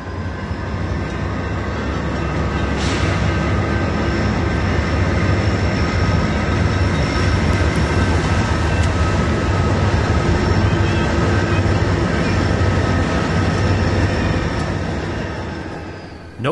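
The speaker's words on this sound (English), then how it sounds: "we caught a northbound UP freight" Northbound Union Pacific freight train, including an unpatched Southern Pacific locomotive, rolling past on the Altamont corridor in 2005, a loud sustained rumble of wheels and cars with faint squeal and whine, fading slightly at the end.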